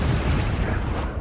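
Cannon fire booms during a fort battle in Assassin's Creed IV: Black Flag, a dense, loud, rumbling roar of artillery filling the moment without pause.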